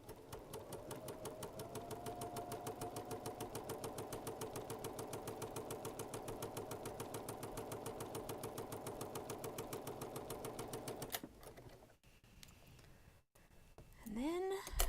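A sewing machine stitches the last side of a quilt block, a steady rapid mechanical whir with fast regular needle ticks running for about eleven seconds before it stops and faint handling noises follow.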